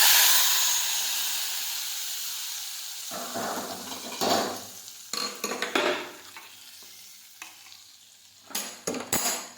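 Hot spiced oil tempering is poured into a pot of cluster bean (guvar) buttermilk curry, starting with a loud sizzle that gradually fades, followed by a spoon stirring the pot in scattered bursts.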